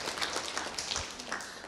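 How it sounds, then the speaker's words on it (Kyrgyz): Applause from an audience at a Kyrgyz youth discussion event, a dense, steady wash of many hands clapping at moderate distance for a short stretch. "Кол чаап коелу."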